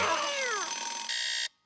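An alarm clock rings loudly in a French children's cartoon, with a falling sweep giving way to steady, shrill ringing that stops abruptly.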